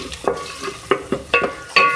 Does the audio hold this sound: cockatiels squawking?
no